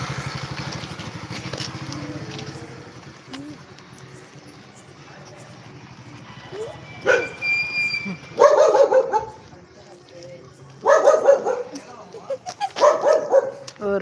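Several dogs bark and yip in bursts, fairly close, with a faint engine hum in the background.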